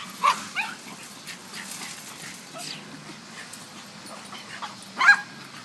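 Dogs yip, whimper and give short barks at a quiet distance, scattered bursts with a louder yelp near the end, while people speak in the background.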